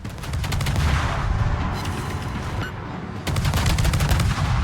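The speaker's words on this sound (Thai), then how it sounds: "เสียงยิงปืนใหญ่ที่สมจริง" Rapid, heavy bursts of video game cannon fire boom continuously, loud and close, with a brief dip before the barrage resumes at full intensity.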